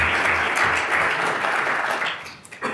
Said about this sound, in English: A big round of applause for Stella